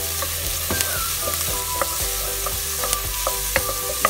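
Onion frying in a pan for a pork and tomato dish, a continuous, close sizzling hiss with scattered light clicks and scrapes of a stirring utensil, and no talking.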